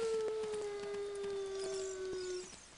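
A dog in a video game lets out one long, steady, mournful howl, clear and sustained for over two seconds before fading, with faint clicks behind it.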